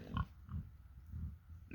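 A pig on a small pasture farm grunts in several low, rough bursts at an uneven rhythm, close and moderately loud, with no talk over it.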